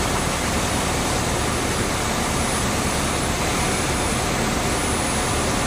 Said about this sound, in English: And this Cessna 152.